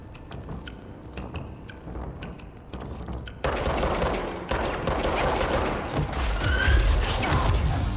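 Gunfire in the video game Control, starting as scattered sharp shots over a low hum, then turning into louder sustained rapid fire with crashing impacts for the last few seconds.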